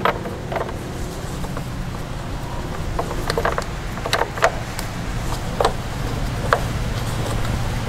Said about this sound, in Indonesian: Kemudian kita bantu kencangkan dengan kunci.